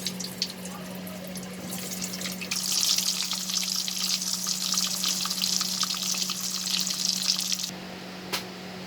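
Stuffed pointed gourds sizzle in hot oil in a pan, a steady bright crackling hiss that swells as the gourds go in, then quiets near the end.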